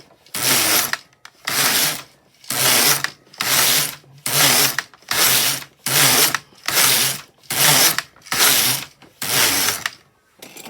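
A domestic knitting machine carriage is pushed back and forth across a row of knitting, making about ten evenly spaced rasping, whirring sweeps close up with brief pauses between them. No one speaks.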